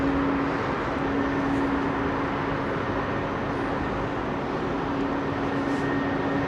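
A Boeing airliner departing runway 27R at London Heathrow, a steady broadband engine roar with a faint low hum running through it, constant in level across the whole stretch and heard alone.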